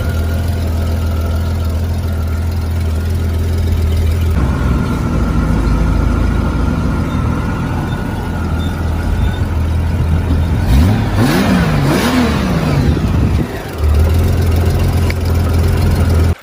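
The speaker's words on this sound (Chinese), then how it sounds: "先大家听一下这代发动机声浪" A Honda Gold Wing GL1500 flat-six motorcycle engine idles with a deep, steady burble, then gets a couple of sharp revs that climb and fall before settling back to a loud idle.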